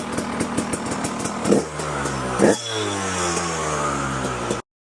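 A freshly revived KTM 250 EXC two-stroke dirt bike engine runs loud and close, with a rapid popping idle, two sharp throttle blips and a rising rev before cutting out.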